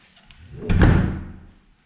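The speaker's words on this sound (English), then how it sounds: "and that's why I'm closing the door" An interior room door swung shut with a single muffled thud, close by, with a brief creak just before the closing thump.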